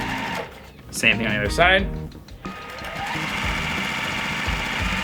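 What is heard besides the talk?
sewing machine sewing quilt pieces with a 1/4 inch seam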